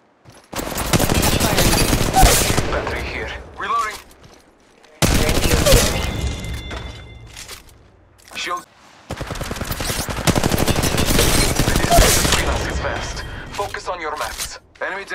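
Weapon fire in Apex Legends Mobile comes in three loud, close bursts of rapid automatic shots, separated by short gaps, with game voice lines between the volleys.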